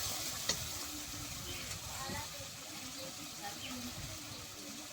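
Meat masala spice paste frying in oil for rohu fish curry gives a soft, steady sizzle with occasional stirring scrapes and a sharp clink early on, fairly quiet throughout.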